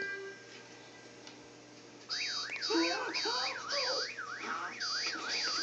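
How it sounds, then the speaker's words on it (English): An electronic alarm starts abruptly after a quiet stretch, a rapid warbling siren of rising and falling tones with bright beeps, loud and continuous to the end. "Just turn your alarm off."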